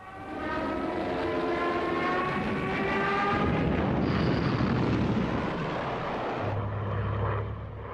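WWII Luftwaffe aircraft engines heard in archival wartime footage: a loud, sustained propeller-engine roar with droning tones, swelling through the middle and easing toward the end.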